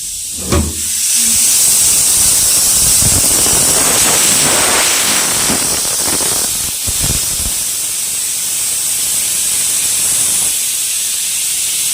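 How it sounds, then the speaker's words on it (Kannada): A pressure cooker on the stove while sambar cooks, letting out a loud, continuous hissing rush of escaping steam that holds steady for several seconds, close to the microphone, with no talk over it. "ನಾನು ಸಾಂಬಾರಿಗೆ ಇಟ್ಟಿದ್ದೀನಿ, ಕುಕ್ಕರ್ ಇನ್ನೇನೋ ಕೂಗುತ್ತೆ"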